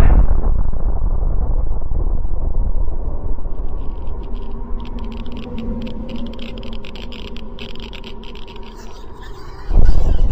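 A loud deep rumble from an atomic bomb test explosion rolls on for several seconds, slowly fading, with faint crackling above it and a fresh low surge near the end.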